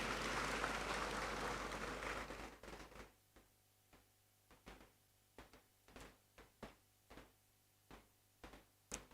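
An audience at a university congregation ceremony in a great hall applauds in a dense, sustained burst that stops abruptly. Sparse, evenly spaced knocks or footsteps follow in a quiet room, faint and reverberant.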